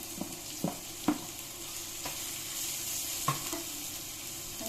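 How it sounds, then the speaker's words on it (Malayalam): Sliced onions frying in a pan for chicken curry, a steady soft sizzle with a few brief scraping stirs, close and moderately quiet, no voices. "ഇതിലേക്ക് നമുക്ക് സവാള ആഡ് ചെയ്ത് വെക്കാം."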